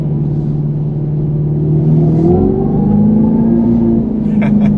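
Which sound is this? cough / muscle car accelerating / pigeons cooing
muscle car accelerating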